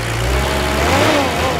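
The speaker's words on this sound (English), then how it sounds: "You gotta love the old 2H, the way it just rattles along like a tractor." An old Toyota Land Cruiser HJ47 with its 2H diesel engine idles with a steady low rumble and rattle, loud and close, shifting slightly partway through.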